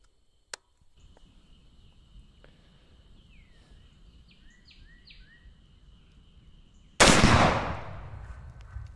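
A sharp crack from a distant rifle shot, then after a stretch of quiet outdoor ambience with faint bird chirps, a Firebird exploding target bursts loudly with a little fire and slowly rolls off.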